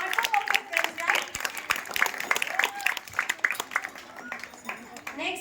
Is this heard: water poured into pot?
no